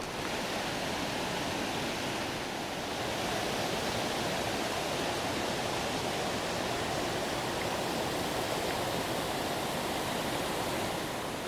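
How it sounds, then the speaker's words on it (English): Partly frozen winter waterfall at Wentworth Falls, Nova Scotia, giving a constant broad rushing hiss of running water, steady and unbroken throughout, heard alone with no voices. "I can certainly hear running water, so I can see the falls now, but they look frozen"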